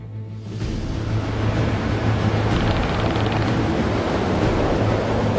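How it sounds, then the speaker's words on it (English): Mountain streams swollen into gushing torrents by typhoon rainfall in southern Taiwan, during Typhoon Morakot, make a loud, steady, roaring rush of water that fills the whole stretch with little change. "rainfall is turning small mountain streams into gushing torrents, sweeping through valleys"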